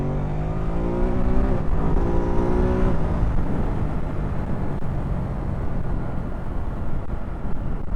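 A 2024 Ducati Supersport 950S motorcycle accelerating uphill in second gear: the engine note climbs for a few seconds, shifts, then settles into a steady loud rush of engine and wind noise, with no talking.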